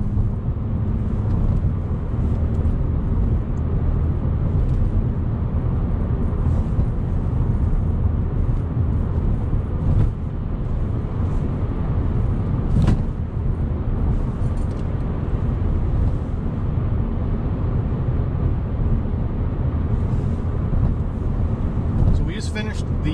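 A car driving at night along city streets with scattered lights, then darker roads; steady low engine and road rumble continues throughout, with a brief sharper knock partway through.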